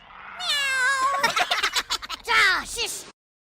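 A person loudly imitates a cat's meow in a comedy sketch, with drawn-out, rising and falling meow-like cries mixed with other vocal sounds, close and clear.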